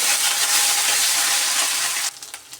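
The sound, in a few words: onion paste frying in a pan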